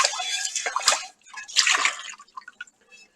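Water draining and sloshing in a kitchen sink, close gurgles and drips in two bursts with brief quiet between them.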